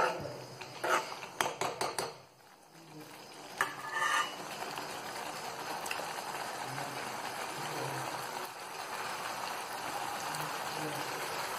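Palak paneer masala cooking in a pan with homemade garam masala, a soft steady sizzle and simmer running throughout, with a few sharp utensil clinks and stirring scrapes near the start.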